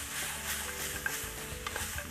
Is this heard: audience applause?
no